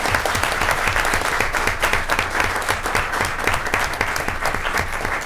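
Applause from an audience at an elementary school Students of the Month ceremony, greeting second graders; dense, steady clapping carries on at an even level throughout, with no voices over it.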